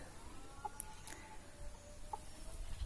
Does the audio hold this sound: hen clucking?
yes